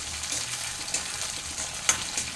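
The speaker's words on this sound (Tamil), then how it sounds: "அந்த தக்காளியையும் இது கூட சேர்த்து கொஞ்சம் கிண்டி விடணும்" Tomato and green chillies sizzle in hot oil while being stirred, a steady close-up frying crackle punctuated by a couple of sharp spoon scrapes.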